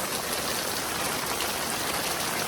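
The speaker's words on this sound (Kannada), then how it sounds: "ಸಖತ್ತು ಮಳೆ ಬರ್ತಾ ಇದೆ." Heavy rain pours down outdoors in a dense, continuous roar of falling water that stays loud and even throughout, with no speech.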